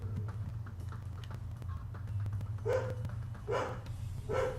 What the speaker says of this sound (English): she's back at barking again